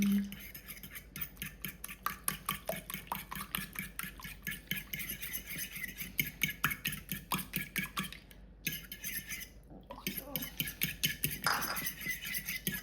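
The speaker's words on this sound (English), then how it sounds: "whisk this bad boy up, and you get like a cup of water" Eggs being whisked with warm water in a bowl for a Chinese-style dish, a fast steady clatter of whisk against the bowl, close and continuous with brief pauses.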